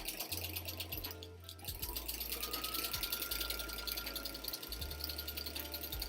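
A sewing machine with a walking foot runs a zigzag stitch, giving a fast, even mechanical clatter close by, with short pauses and restarts of its low motor hum throughout.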